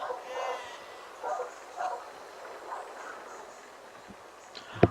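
A dog barks and yips a few times at moderate distance during a live game stream, short bursts separated by pauses, ending with a sharp nearby knock.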